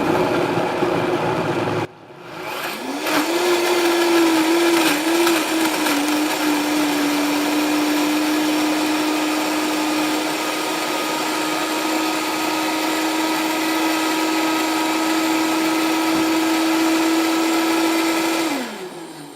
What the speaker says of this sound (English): You might need to stop and scrape down your blender a few times.